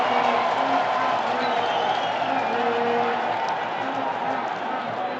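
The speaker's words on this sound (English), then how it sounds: "The applause from the Chula supporters" Chula supporters applaud at a football match between African Stars and Eeshoke Chula Chula, a steady distant crowd wash with scattered clapping and cheering running under continuous match commentary.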